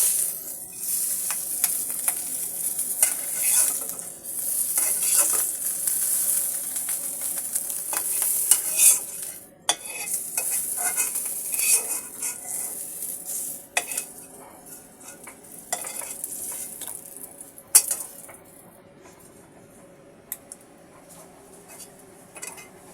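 Tengra fish frying in oil in a pan, a continuous sizzle and crackle with frequent scraping and clinking of a spatula and utensils, close and fairly loud, gradually easing near the end, with no talk.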